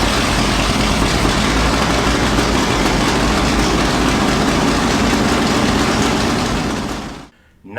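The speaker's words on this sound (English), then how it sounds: "It has a 1936 Ford flathead engine." A 1936 Ford flathead engine in a 1932 Ford Roadster hot rod runs steadily with a loud, rough low rumble, close and continuous, then cuts off near the end.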